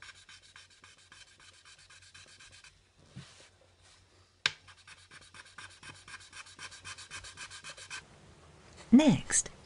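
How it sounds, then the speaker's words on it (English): Charcoal burnishes raised lacquer relief in a maki-e workshop, a soft, steady scratchy rubbing that repeats in short strokes, with a sharp tap near the middle and a brief louder rustle at the end. "After burnishing the raised portions with charcoal to define their shape"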